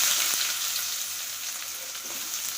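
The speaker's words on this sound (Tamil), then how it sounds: "உப்பு சேர்த்து நம்ம வெங்காயத்தை நல்லா பொன்னிறமாக வர்ற வரைக்கும் வறுத்து" Onions with salt frying in hot oil for tomato chutney, a steady soft crackling sizzle with faint stirring, continuous and close without any voices.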